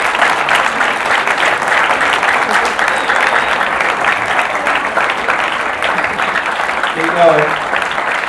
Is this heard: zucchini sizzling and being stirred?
no